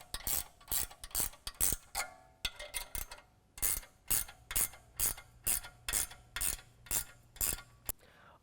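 A hand ratchet clicks in quick, even bursts while tightening the bolts of an Air Lift LoadLifter air bag kit on a truck, close and crisp, with short pauses between strokes.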